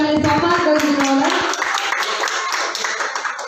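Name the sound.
audience applause honouring a speaker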